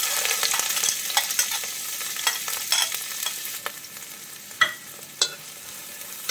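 Onion and chillies sautéing in hot oil for vendakka mezhukkupuratti (okra stir-fry), a steady close sizzle broken by scraping stirs and a few sharper clinks of the spatula against the pan.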